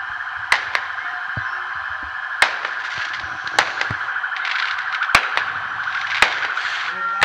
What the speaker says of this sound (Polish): w akompaniamencie sztucznych ogni.